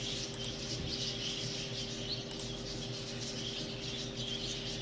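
Caged birds chirping in The Last Door video game, several different species together, a steady bed of small high twitters and tweets over a constant low hum, with no talking.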